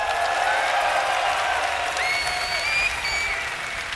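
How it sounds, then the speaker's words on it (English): A crowd at an esports tournament applauds and cheers steadily throughout, a dense sustained clatter of clapping with whistles and shouts rising over it. "If you would like it to be him, cheer for Liquid HerO!"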